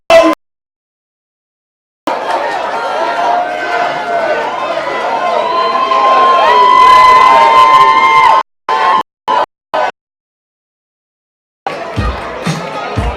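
A crowd at Sloppy Joe's in Key West cheers during a Hemingway lookalike contest, a loud swelling roar of shouts and whoops broken by abrupt gaps of silence and short bursts.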